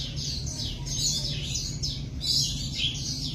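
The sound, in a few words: golden weaver bird calling at zoo bird house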